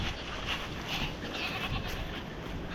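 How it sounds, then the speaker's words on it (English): Goats or lambs bleat on a mountain farm, a few wavering calls rising over a steady outdoor hiss, fairly faint and at some distance, with no talking. "Gotta check on the little lambs or goats."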